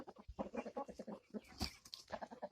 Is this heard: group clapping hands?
no